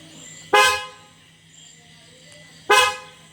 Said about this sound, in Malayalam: ഇനി ഹോൺ കേൾപ്പിക്കാം കേട്ടോ